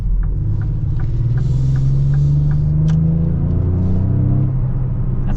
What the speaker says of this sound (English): it's got kind of like a deep rumble a little bit